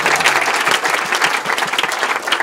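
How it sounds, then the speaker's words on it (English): Loud, close applause from a festival audience at Sacred Sound, with many hands clapping in a dense, lively patter and some individual claps standing out. "Let's give them a big round of applause"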